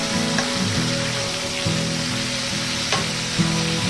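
Vegetables with dry fish, onion and garlic are stirred in a sizzling pan, a continuous close fry with rhythmic scraping strokes of a spatula every second or so.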